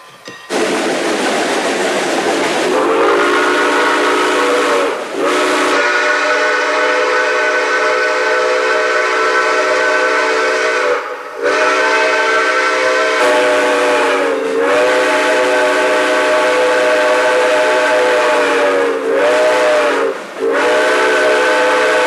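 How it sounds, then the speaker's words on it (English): A 1911 Baldwin 462 steam locomotive on the Texas State Railroad, its steam whistle blowing loud and sustained in several long blasts with short breaks, over a constant hiss of steam. "This 1911 Baldwin 462 is one of the few remaining steam locomotives operating on a daily basis."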